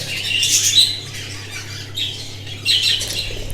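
Pet birds being gathered from their nest boxes give two bursts of harsh, close squawking, separated by a brief lull, over a low steady hum with no talking.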